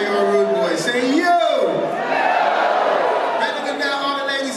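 A theatre concert crowd at The English Theatre in Glenside, PA shouts back "yo" on cue, a loud, dense burst of massed voices swelling and lingering for several seconds amid general hall noise.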